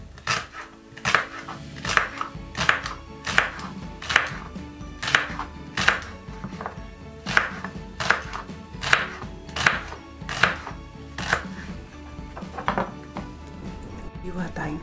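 Steady chopping of celery on a cutting board, around a dozen crisp knife strikes at a regular rhythm, close and clear, with faint kitchen clatter and a voice talking in the background.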